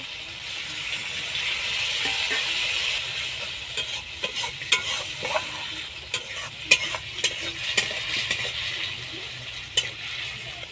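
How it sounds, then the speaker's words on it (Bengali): Ground cumin paste sautés with a little water in a pan, giving a soft, steady sizzle with repeated scraping and stirring clicks from a utensil in the second half, no voices. "অল্প পরিমাণে জল দিয়ে কষিয়ে নেব।"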